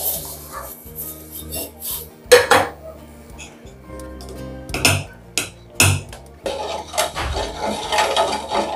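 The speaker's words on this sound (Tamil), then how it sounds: "இப்போ நான் சர்க்கரை சேர்த்துக்கிறேன்." Sugar goes into warm milk for tender coconut payasam and is stirred in a metal vessel, making irregular clinks, taps and scrapes of a spoon, with a person speaking at times between them.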